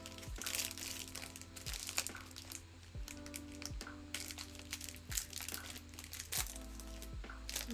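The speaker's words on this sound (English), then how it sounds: "My apologies for any crunching noises you are about to hear." Someone near the microphone keeps crinkling a granola bar wrapper and biting into the bar, making irregular dry crackles and crunches over a steady low hum.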